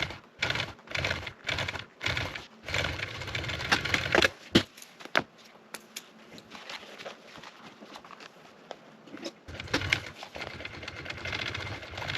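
A sewing machine stitching a boat seat cover, sped-up bursts of rapid mechanical chatter broken by short pauses, close and fairly loud, with no voices.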